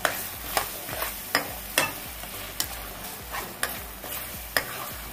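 Chicken frying in a pan for Chettinad chicken curry, stirred with a spoon: a crackling sizzle with repeated sharp scraping strokes at a steady pace, close and alone.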